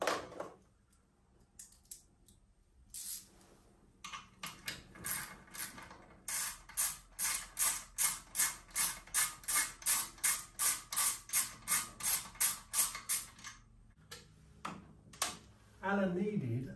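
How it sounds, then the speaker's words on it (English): Hand ratchet undoing bolts on a Vokera boiler's main heat exchanger: after a few scattered clicks, a long steady run of close, evenly spaced ratcheting strokes repeats about twice per second, then tapers off with a couple of final clicks. "So I'll make it a little bit faster there and use a ratchet."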